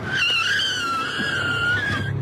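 A truck in the Twin Peaks pilot peels out noisily, its tires squealing in a loud, sustained whine with engine roar underneath for about two seconds.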